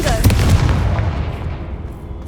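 Confringo explosive spell cast in Hogwarts Legacy, a loud booming blast with a sharp onset that rolls into a decaying rumble, with a voice calling out near the start.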